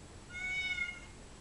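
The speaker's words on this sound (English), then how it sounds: "they are very noisy cats, but you grow to love it after a while" Cornish Rex cat meowing indoors in a living room, a single drawn-out, fairly loud meow at close range with no talking.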